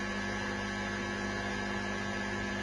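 An electric motor runs at 3,000 RPM, producing a constant, even electrical hum with a steady tonal drone and no variation or pauses.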